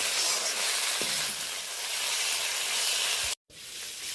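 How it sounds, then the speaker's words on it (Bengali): Ginger-garlic paste frying in a pan gives a loud, steady hiss and sizzle, with a soft clink of stirring near the start and a brief dropout near the end. "আদা রসুনের পেস্টটা দেওয়ার পরে আরও কয়েক সেকেন্ড ধরে ভালো করে নাড়াচাড়া করে নিচ্ছি।"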